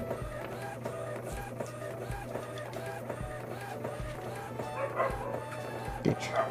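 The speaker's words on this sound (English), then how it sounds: "Print job has been sent to the printer." An Epson L120 inkjet printer works with rhythmic mechanical whirring and clicking as the print head shuttles, while a dog yips and whimpers intermittently nearby.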